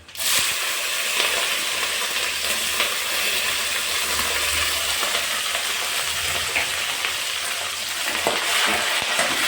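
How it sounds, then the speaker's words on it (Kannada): Onion, green chilli, potato and tomato frying in a pan for uppittu, a steady loud sizzle and crackle that runs unbroken throughout with occasional stirring. "ಇದನ್ನು ಕೂಡ ಚೆನ್ನಾಗಿ ಚೆನ್ನಾಗಿ ಫ್ರೈ ಮಾಡ್ಕೋಬೇಕು"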